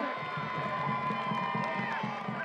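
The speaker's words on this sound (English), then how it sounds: "Let's give them another big round of applause." A school homecoming crowd at St. Joseph Catholic School cheers and claps, a dense, sustained wash of shouts and whoops with children's voices mixed in, heard from within the stands.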